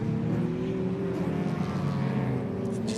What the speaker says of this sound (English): That car does not sound as healthy as it did in the previous sessions